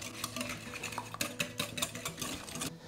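A whisk beats madeleine batter vigorously in a bowl, fast rhythmic scraping strokes up close, steady and continuous without talk.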